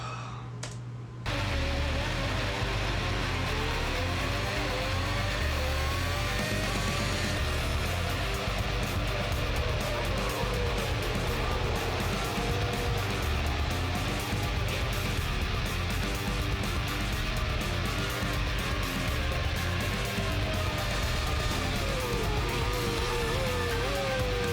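Kimi Raikkonen's Ferrari Formula 1 car at the 2007 Brazilian Grand Prix screams continuously at high revs, its pitch rising and falling through gear changes and loud throughout.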